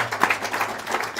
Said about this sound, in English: Can we get a round of applause for all of our Goldfield people tonight?